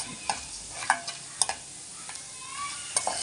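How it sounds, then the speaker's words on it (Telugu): Ginger pieces and sago sizzle in hot oil in a pan, a steady close frying hiss broken by several sharp scrapes and clicks of a spoon stirring, with no voices. "బాగా వేగేదాకా వేయించుకొని చక్కగా"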